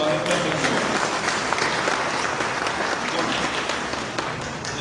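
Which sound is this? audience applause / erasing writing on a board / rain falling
audience applause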